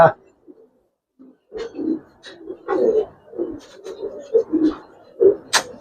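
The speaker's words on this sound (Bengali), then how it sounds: "এটা একটা মাদি কবুতর সিঙ্গেল।" A single female pigeon coos in soft, low repeated bursts close by, with brief pauses between calls and a faint voice now and then alongside.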